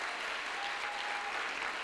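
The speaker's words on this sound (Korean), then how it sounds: "박수 한번 쳐주셔야 돼요." Congregation applause at a Friday special church service, an even, dense wash of clapping from many hands heard at a distance, steady and unbroken for its short length.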